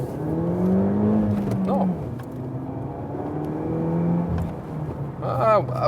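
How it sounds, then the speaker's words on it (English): DS3 Performance 210 hp hot hatch pulling away hard from first gear, its engine note climbing steadily and then dropping at a gear change before rising again, loud and close from inside the cabin, with a brief spoken word. "So one more acceleration here from first gear, as we are starting here right now."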